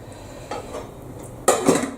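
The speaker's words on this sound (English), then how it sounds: "I'm going to get a couple of ladlefuls in there" Stock is ladled into a pan of fennel risotto, with a soft clink of the ladle against the pan followed by a louder metallic knock and splash, close and otherwise quiet.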